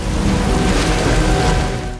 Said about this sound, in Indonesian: Hujan badai tiba-tiba turun saat mereka sudah berada dekat dengan sebuah penginapan bernama Glory Valley.